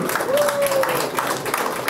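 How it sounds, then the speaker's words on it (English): Audience applause at a store collection launch at a mall, with Miss India winners present: a steady, dense wash of clapping from a crowd, fairly loud and continuous, with a brief tonal whine rising above it early on. "with a huge round of applause, let us unveil"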